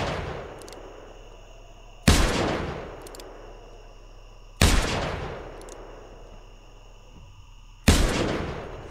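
Three loud, sharp rifle shots crack in the hunting game theHunter: Primal, each spaced a couple of seconds apart and trailing off in a long fading echo over a quiet, low ambient hum.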